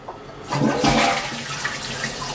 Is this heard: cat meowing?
no